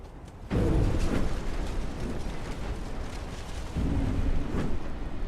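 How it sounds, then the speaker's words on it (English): A torpedo strikes a warship in the naval battle game Ultimate Admiral Dreadnoughts, producing a sudden loud deep explosion followed by a rumbling roar and a second heavy blast rolling in. "Hit from a torpedo."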